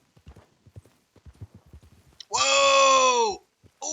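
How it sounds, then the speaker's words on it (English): Horse hooves in the Red Dead video game clop in a quick, quiet rhythm, then a loud, sustained, whinny-like cry rings out before the hoofbeats resume briefly. "Whose horse is that? Dude, your horse is like flying."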